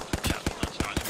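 Automatic gunfire in a video game pours down from a rooftop, arriving as quick, punchy bursts of a few shots each in a steady rhythm, close and sharp with no voices.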